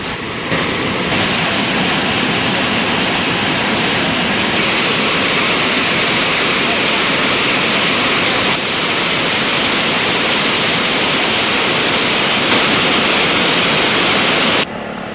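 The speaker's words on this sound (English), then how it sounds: "All spill gates of the Parakrama Samudra have been opened by 6 inches each, which releases 700 cubic feet of water per second." Water gushing through the opened spill gates of the Parakrama Samudra reservoir, a loud, steady, unbroken roar of rushing water with no letup for the whole stretch.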